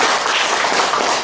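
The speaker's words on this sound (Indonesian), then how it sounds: "tepuk tangan buat Tuhan tuh ya" A congregation applauds at a church sermon in Bekasi, a brief, dense burst of clapping throughout.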